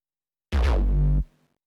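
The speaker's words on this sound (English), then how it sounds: "there's some pitch modulation on the MIDI, which is pulling it down as it's played" One loud Serum synth bass note that bends downward in pitch via MIDI pitch modulation as it sounds, then cuts off abruptly with a short tail.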